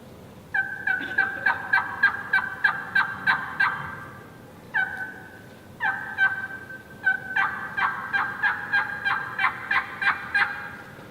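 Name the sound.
hen turkey yelping imitated with a turkey call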